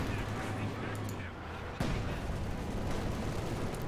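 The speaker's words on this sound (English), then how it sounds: "These units are getting hit consistently by this barrage." Artillery barrage pounding units in the strategy game Company of Heroes 2: rumbling blasts and crackling impacts, with a sharp hit near the middle, layered over continuous battle noise and a background hum.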